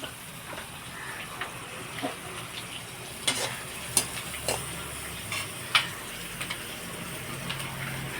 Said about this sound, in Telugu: ఇలాగా కట్ చేసి పెప్పర్ పొడి వేసేసండి ఇలా వేపేస్తాం